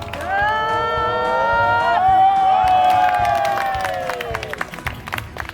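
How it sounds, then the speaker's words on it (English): A street performer's audience breaks into cheering and applause, with loud sustained shouts and whoops over scattered clapping that swell, then taper off and thin out toward the end. "Big applause for Luca!"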